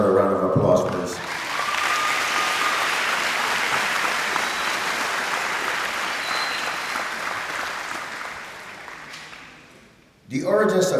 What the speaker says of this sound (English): Let's give our Silver Steppers another round of applause, please.